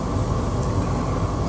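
A moving passenger train just out of Godalming, heard from inside: a steady, loud low rumble with a constant rolling noise throughout and no voices.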